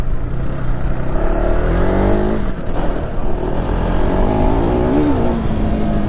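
A vehicle engine revs hard while a tyre spins, a loud, continuous roar with rising and falling pitch sweeps and no voices.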